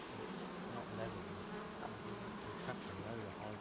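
Bees buzz steadily in a permaculture garden, a continuous close insect drone with wavering pitch and no voices.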